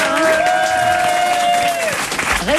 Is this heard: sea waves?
no